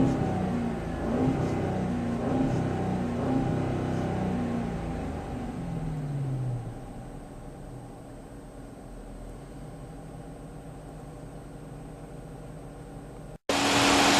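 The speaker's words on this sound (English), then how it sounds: "The engine is just asking to go high in RPM." A Dodge Challenger's 5.7-liter V8 revs up strongly for several seconds, then settles into a lower, steady idle-like drone.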